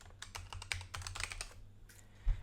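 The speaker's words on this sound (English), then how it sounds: "So I will type" Quick run of computer keyboard keystrokes, soft close clicks in a fast irregular rhythm, then a brief pause and a final louder key thump at the end.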